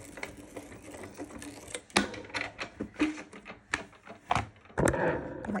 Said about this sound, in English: We're going to roll it through our Sizzix Big Shot Plus.